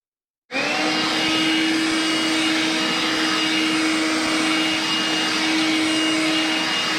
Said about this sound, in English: As you can see, it's not sucking up these mats at all, and it's cleaning the majority of the sawdust right off of it.